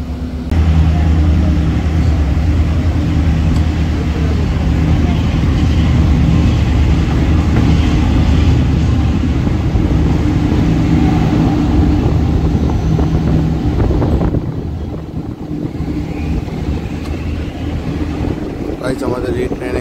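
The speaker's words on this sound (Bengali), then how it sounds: "আমাদের এই ট্রেন এখন ডিপার্চার হয়ে গেল বিশ্রামগঞ্জ রেল স্টেশন থেকে।" A local passenger train pulls away from Bishramganj railway station in Tripura, its steady low rumble and wheel noise continuous and loud throughout, with wind buffeting and a slight drop in level partway through.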